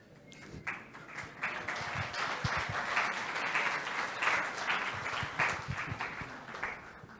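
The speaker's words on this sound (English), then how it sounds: "That really didn't deserve applause" Audience applause fills a hall at a security conference's physical security village, a dense steady patter of many hands with a few sharper claps, sustained throughout at moderate loudness.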